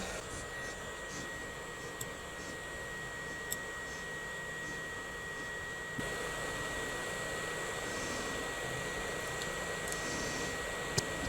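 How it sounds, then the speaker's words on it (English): A hot air rework station set near its 500-degree maximum blows a steady, broadband hiss while desoldering diodes from a 100W PIR motion-sensor LED flood lamp board, continuous and close with a few faint clicks. "Let me try to get this out with the hot air station."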